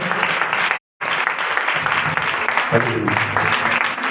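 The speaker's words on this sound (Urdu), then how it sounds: "ہم ایک بار پھر زوردار تالیاں سے سلاموں کے لیے بجائیں گے" Church congregation applauding loudly during a worship service, dense steady clapping that fills the clip apart from a brief dropout near the start, with a voice speaking over it toward the end.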